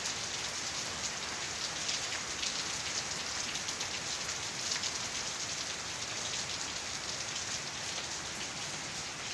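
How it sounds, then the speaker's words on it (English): Heavy rain pours down in Kissimmee as a constant, dense hiss of drops hitting surfaces, loud and unbroken throughout with no voices. "the rain's coming so heavy down"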